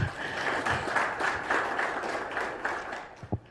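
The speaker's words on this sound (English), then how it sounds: "Can we encourage him with a clap?" An audience claps to welcome a speaker at a pump launch event in Rwanda, a moderate burst of applause that thins out near the end, with a few louder knocks.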